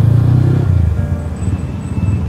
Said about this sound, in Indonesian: Kalau pagi Pondok Cabe begini nih, mantap macet.